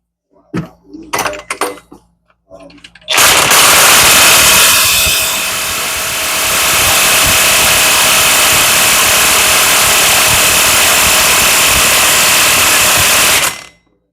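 A pneumatic air tool gun runs at full throttle on a Can-Am, a loud continuous whirring roar for about ten seconds after a few short bursts, then cutting off abruptly.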